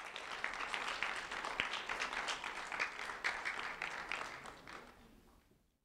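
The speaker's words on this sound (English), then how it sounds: "let's have a round of applause for Jonathan and for Brent" Audience applause for two honored seventh-grade students rises as a dense, steady wash of many hands clapping at moderate distance, then fades away to quiet near the end.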